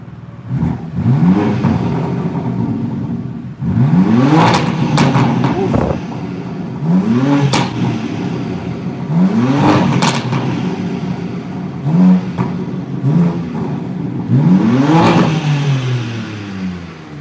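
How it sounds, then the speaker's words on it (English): A 2021 BMW M3/M4 engine revs hard, about half a dozen times, each rising sharply to a loud peak with nothing limiting it, then falling back between bursts. A faint voice sits underneath. "Yuri's going to rev it again to hopefully get some better quality audio"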